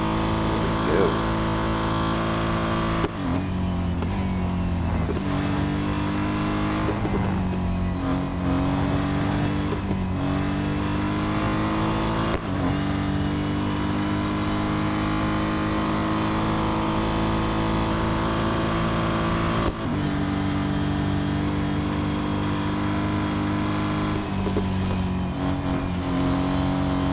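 A Mercedes-AMG GT4 race car laps Suzuka in Real Racing 3, its engine droning loud and continuous as it revs up through the gears, with sharp drops at each shift and brief easing under braking.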